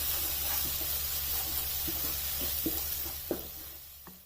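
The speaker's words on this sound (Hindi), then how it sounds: "अब इसे भी 1 से 2 मिनट तक इसमें फ्राई होने देना है।" Garlic and ginger paste frying in a pan for a lauki kofta dish, a steady close sizzle with soft scraping stirs and a few sharp spoon taps near the end, no voices.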